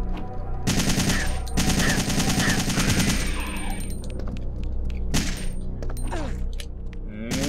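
Rapid automatic bursts of assault rifle fire from Resident Evil 3, loud and close, coming in sustained strings with short breaks between them, over a low rumble and a few shattering and thudding hits.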